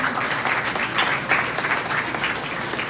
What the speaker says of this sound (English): give yourselves a hearty round of applause. I think you should do that now.